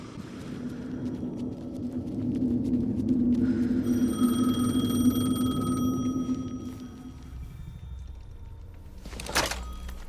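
A telephone rings in Alan Wake 2 with a steady repeating bell tone over a low droning ambience, then a sharp thunk near the end.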